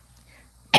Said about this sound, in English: Thank you for coughing on me.